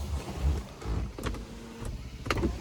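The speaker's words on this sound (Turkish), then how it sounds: "Camımızı da kapatalım" An electric window on an 11-year-old BMW 520d (F10) hums upward in a short motor whine, ending with a faint thump, in a quiet interior.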